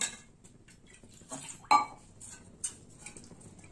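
A spoon stirs boiled mung dal in a metal cooking pot, making faint, scattered scrapes and clinks with a couple of sharper metallic taps.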